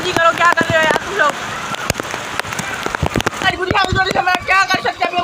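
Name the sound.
heavy rain in Karachi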